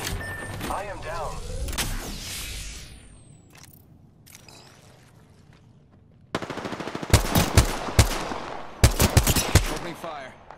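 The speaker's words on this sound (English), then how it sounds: "The enemies are shooting at me." Enemy gunfire in an Apex Legends match: bursts of rapid automatic shots and sharp cracks, some distant and some close and loud, clustered toward the end, with a voice talking over the fight.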